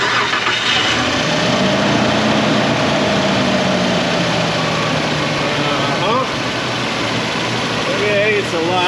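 Engine of a 2000 Nissan Pathfinder with the 3.3 V6 turning over and settling into a steady close idle, with a rising whine near the start and people talking over it.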